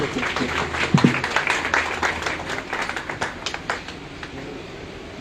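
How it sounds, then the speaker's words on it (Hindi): Audience applause at an Eid Milan party held by a sanitation office in Islamabad, a loud burst of clapping that tapers off over several seconds while a voice speaks over it. "आपकी भरपूर तालियों में तशरीफ़ लाते हैं चौधरी गुलजार साहब।"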